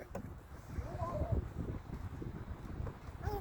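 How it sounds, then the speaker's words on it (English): Strong wind buffets the microphone outdoors beside a big slide, low rumbling gusts throughout, with a voice and brief squeals over it. "It's too windy to fly now."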